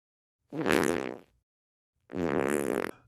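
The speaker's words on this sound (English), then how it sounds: "I am farting. I am farting." Two cartoonish fart noises, each a warbling, buzzy blast under a second long, separated by a short silent pause; loud and close with no talking.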